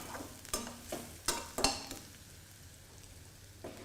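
Onions being stirred in a pan for a Chettinad potato and green peas fry, with a faint sizzle under several sharp scrapes and clinks of a spoon against the pan, close and quiet.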